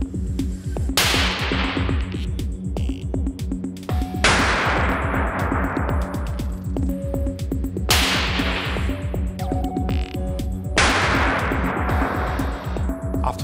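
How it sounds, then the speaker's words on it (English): Four loud, sharp 9mm bullet impacts strike a Dyneema armor vest, spaced roughly three seconds apart, each a cracking bang with a long ringing decay over a constant mechanical rumble. "After 30 seconds, the vest will receive 4 impacts with a 9mm bullet."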